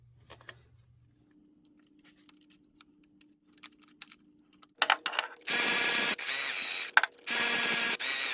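A torque wrench tightening the tensioner bolts on a Lincoln 3.5 engine's primary timing chain, first light metallic clicks and taps, then loud harsh ratcheting bursts close by.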